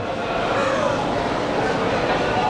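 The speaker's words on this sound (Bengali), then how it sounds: "আরেকটা ট্রেন কিন্তু এখান থেকে ছেড়ে যাচ্ছে" A train pulls out of Sealdah railway station in Kolkata, making a steady loud rumble and rolling noise with no clear breaks, up close within a busy platform ambience.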